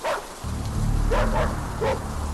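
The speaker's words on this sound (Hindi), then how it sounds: "सारे कुत्ते एक जगह झुंड में खड़े हैं, एकदम तैनात, और स्विमिंग पूल के पीछे अंधेरे कोने की तरफ देखकर गुर्रा रहे" Several dogs bark and yelp in a garden beside a swimming pool, three short, mid-distance outbursts over a steady low rumbling background.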